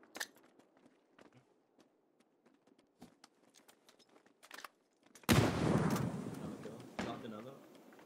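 Grenades burst in PUBG: faint scattered gunfire and footsteps give way to a sudden loud explosion blast, followed by a second boom as the roar fades, heard close with no speech.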